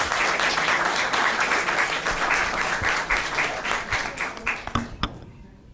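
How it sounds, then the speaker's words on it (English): Audience applause at a city council meeting in Inglewood, a sustained round of clapping from a roomful of people that thins into a few scattered claps before stopping. "please give her another round of applause"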